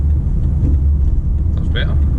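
A car's engine braking as it slows around a corner gives a steady, loud low rumble with road noise throughout, and the roar barely changes over the short stretch.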